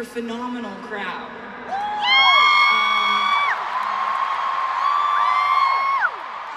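Concert crowd at a concert in Los Angeles, cheering loudly with high rising whoops and whistle-like yells that swell and sustain for several seconds over a roaring mass of voices.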